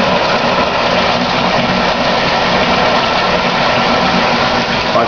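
A DIY protein skimmer fed from a pressure manifold sucks air on fish farm tanks, producing a loud, steady rushing hiss and hum with no break.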